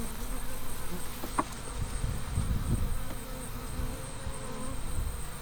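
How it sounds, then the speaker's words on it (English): Honey bees buzz continuously at close range at a top bar hive, a dense steady hum with a few louder passes, and no talking. "keeps the bees pretty darn calm"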